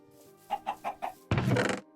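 Chickens in the video game Minecraft give four quick, even clucks, followed by a louder burst of broadband noise.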